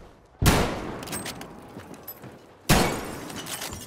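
Battlefield V gunfire: two loud, sharp shots about two seconds apart, each followed by a crackling, rumbling tail of echo and scattered battle noise.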